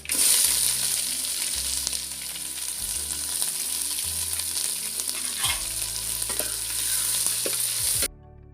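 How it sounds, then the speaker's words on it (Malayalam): Long-sliced onions fry with mustard seeds, fenugreek and cinnamon in a pan for a Kerala beef curry, a steady loud sizzle with occasional stirring throughout, cutting off abruptly at the end. "അതിലേക്കൊരു രണ്ട് വലിയ സവോള നീളത്തിലരിഞ്ഞത്"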